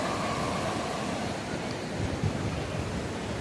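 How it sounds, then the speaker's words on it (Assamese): Sea waves break on a shore by a crowded beach, a continuous broad wash of surf with a slight swell near the end, fairly close and steady, with no voices. "এইটো চাওক ঢৌটো চাওক"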